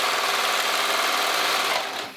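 A serger sewing machine runs steadily, stitching a scrap of fabric with a fast, dense mechanical whir that stays loud and even, then tapers off as it slows at the end.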